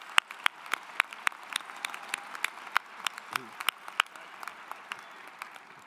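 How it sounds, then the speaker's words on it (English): Sparse, scattered clapping from an audience at a University of Wyoming undergraduate graduation ceremony in spring 2022, individual sharp claps ringing out irregularly over a quiet room rather than a full ovation. "Please join me in giving them all a round of applause."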